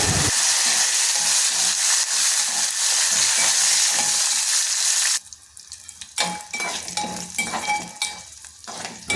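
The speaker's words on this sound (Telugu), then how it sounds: "ఇప్పుడు బాగా వేయించుకోవాలి" Peanuts, cumin and dried red chillies fry in a pan with a loud, dense sizzle for the first half. The sizzle then drops to a quieter crackle broken by stirring and shuffling noises.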